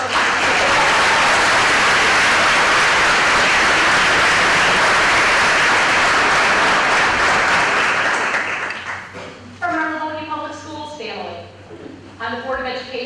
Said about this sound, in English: Can we give a warm round of applause?